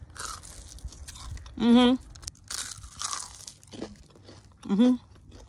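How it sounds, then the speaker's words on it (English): Two loud, close crunches of someone biting into crispy home-cooked fried chicken, separated by a few seconds of quieter chewing and mouth sounds. "let me let you guys hear that crunch"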